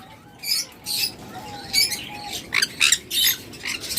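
A breeding pair of pet birds with closed leg rings chirps in short, bright bursts, several quick calls in a row at close range over a quiet background hum.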